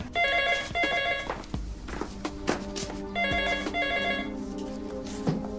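An old-style telephone bell rings in loud, bright trills, a few bursts separated by short pauses, with a hollow indoor room tone and no talking.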